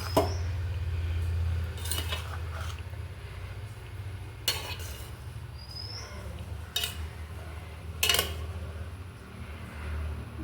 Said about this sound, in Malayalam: ഇതാ ചോറ് നമ്മളിങ്ങനെ ഇതിലേക്ക് മാറ്റിയിട്ടുണ്ട്. അതൊന്ന് മിക്സ് ചെയ്യണം.